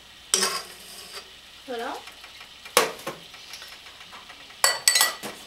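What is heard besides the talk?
stirring baklava filling in a bowl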